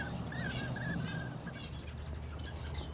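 Young birds in a breeding aviary chirp in short high calls over a steady low background hum, fairly close but not loud, with no talk.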